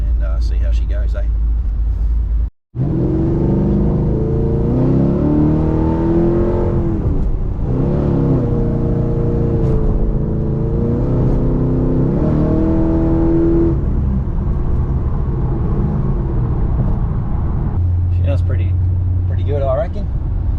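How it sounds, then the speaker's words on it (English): A cammed Pontiac G8 GT V8 with Kooks headers and a Solo Performance exhaust revs on a dyno, rising in several long, loud pulls with a lumpy idle between them, close by. "So give it a little rev in a second and see how she goes, eh?"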